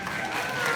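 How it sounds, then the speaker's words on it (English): Audience applause at a school sports banquet, a steady wash of clapping that builds slightly toward the end and fills the room with no voices over it. "Round of applause."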